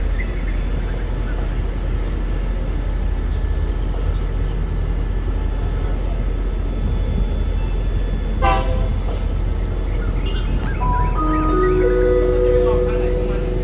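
A steady low rumble of a train approaching a Thai railway station platform under a Thai-language station announcement, then a loud horn blast and repeated toots near the end.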